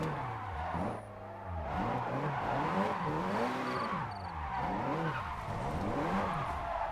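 Tires screech in long, wavering squeals as a car spins out in a drift video game, the whine bending up and down repeatedly over a steady engine drone, loud and continuous with no talk.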